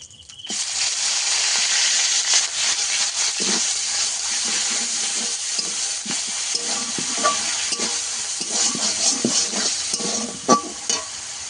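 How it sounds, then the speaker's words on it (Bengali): Chopped onions frying hard in hot oil with whole garam masala spices and a bay leaf, for a potato chicken curry. A loud, steady sizzle fills the pan throughout, with occasional stirring scrapes and clinks and no talking. "পেঁয়াজটাকে আমি খানিকক্ষণ ভালো করে ভেজে নেব।"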